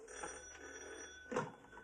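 A telephone rings faintly in a quiet room, a soft bell trill with a slightly stronger burst near the end, with no talking heard.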